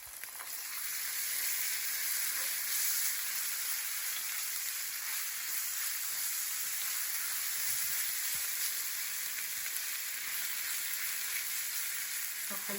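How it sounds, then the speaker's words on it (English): Garlic and ginger paste fries in hot oil, giving a steady, close hiss and crackle that holds evenly from start to finish with no voices over it. "The oil is nice and hot. Don't let the garlic burn."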